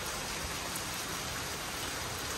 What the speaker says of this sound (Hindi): आज परसों रात से बारिश हो रही है और अभी तक लगातार लगी पड़ी है